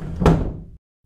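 A door swinging shut in a house, a single solid thud with a short rumble that cuts off cleanly, close and fairly loud with no talk over it.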